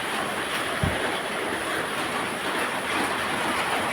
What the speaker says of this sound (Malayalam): ഓ നല്ല മഴയാണ്